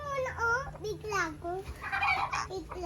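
Chickens cluck in short, rising calls close by, mixed with a voice speaking over them.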